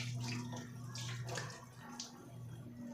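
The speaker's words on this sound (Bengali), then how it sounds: "আম্মা এখন একা একা ব্রাশ করে মুখ ধুচ্ছে" Water from a tap splashes softly and irregularly as a woman washes her face after brushing her teeth. The splashing is quiet and sits over a steady low hum.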